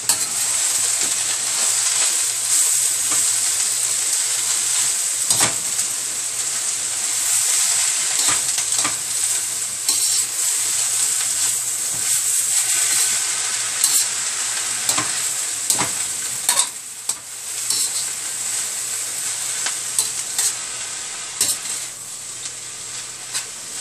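Cabbage sizzles and fries loudly and steadily in a pan, broken by repeated scraping and clacking of a spoon stirring it.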